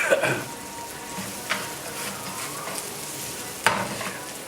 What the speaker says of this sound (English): So I'm browning my onions.